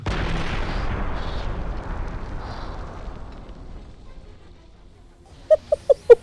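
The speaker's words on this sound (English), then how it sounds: "Are we going to have explosions?" Explosions rocking a villain's lair in the strategy game Evil Genius 2: a heavy rumbling blast decays slowly into quiet, then four sharp pops go off in quick succession.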